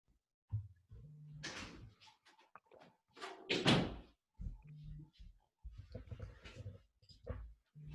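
A door at a home office is handled with a few soft thuds and knocks, close by, amid scattered movement and bumps during a short pause in conversation.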